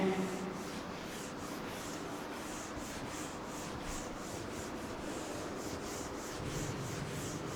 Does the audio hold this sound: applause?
no